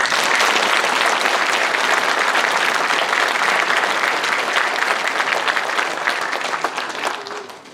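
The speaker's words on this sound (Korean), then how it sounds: "오영철 회장님께 다시 한번 박수 부탁드립니다" A large audience applauds at a Sejong City sports council chairman's inauguration ceremony in Korea, a dense, loud, sustained wash of clapping that tapers slightly toward the end.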